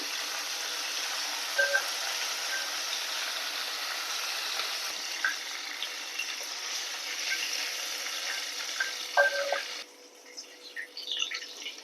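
Chicken pieces frying in a pan for chicken biryani, partly fried, giving a continuous soft sizzle with occasional light pops and clicks that drops away sharply near the end.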